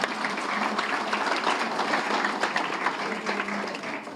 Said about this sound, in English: Applause, grazie